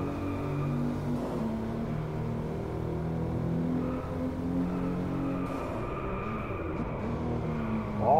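A Jaguar XJ220 with a 3.5-litre 24-valve V6 biturbo engine accelerating in the Drive Club racing game, heard from the cockpit as a steady rising drone with shifting tone and no talk.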